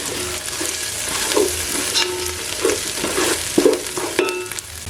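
Chopped fried onions sizzle in a pan of pumpkin soup base with garam masala, a steady close crackle broken by repeated scraping stirs, with no talking.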